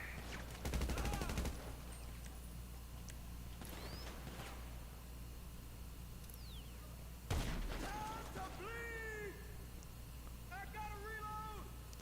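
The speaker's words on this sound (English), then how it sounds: "Sniper rifle. With exploding rounds." Loud sniper rifle shots with exploding rounds in GTA Online during the Cayo Perico heist, two heavy booming blasts several seconds apart, followed by whistling and chirping game sounds.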